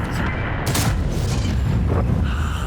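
Tank firing a high-explosive shell in a video game, a loud deep boom with a rumbling low-end tail, heard up close, with a further dull thump shortly after.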